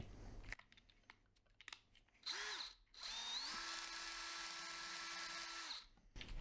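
Power drill spinning a pencil in a sharpener, whirring up in two bursts, a short one then a longer steady run of about two seconds before cutting off, heard close with no talk.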